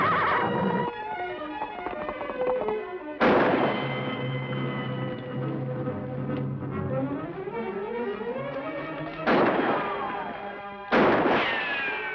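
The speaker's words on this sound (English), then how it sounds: "I wonder who's firing at us." Gunfire sounds out in a Western television drama as a few sharp shots over orchestral music, with cracks at the start, near the middle and toward the end.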